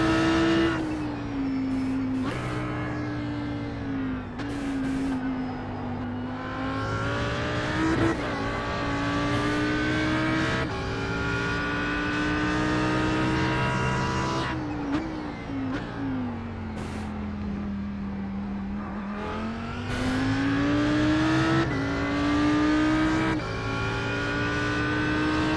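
An Audi R8 GT3 race car at Imola in the iRacing sim screams through repeated upshifts and downshifts, its engine note climbing and dropping between gears and corners, loud and continuous with no talking over it.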